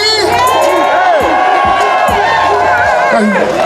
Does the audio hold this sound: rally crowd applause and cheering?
yes